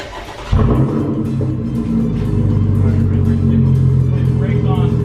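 A V6 Chevrolet Camaro engine cranks and catches after a brief quiet moment, then settles into a loud, steady rumbling idle close by, with voices talking faintly over it.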